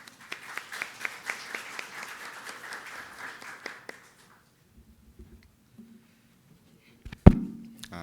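Audience applause at a Korea-Eureka innovation forum, a dense patter of claps running for about four seconds and then fading out, followed by near silence and a sharp knock or bump.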